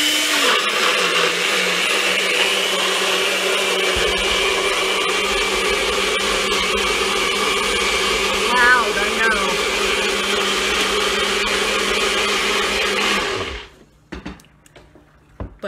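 A Nutribullet blender whirs loudly and steadily for about thirteen seconds with its pitch shifting slightly, then cuts off abruptly, leaving faint clicks and handling noises.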